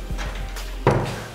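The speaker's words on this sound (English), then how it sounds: "You also have a drawer down there." A drawer in a bedroom closet of a flat-roofed bungalow opens or closes with a few soft scrapes and a thump near the end, short and close in a quiet room.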